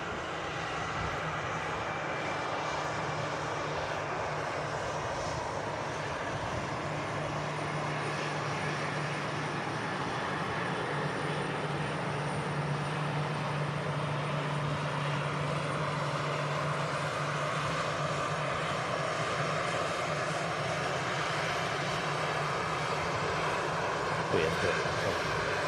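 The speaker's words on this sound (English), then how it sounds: "And this EasyJet touchdown in from Tivat." An EasyJet airliner touches down at Manchester Airport, its engine roar steady and broad for the whole stretch, with a low tone wavering through it and people talking faintly underneath.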